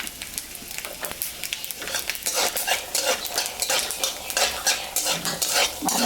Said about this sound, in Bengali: একটা বাদাম আমি ভাজে নেব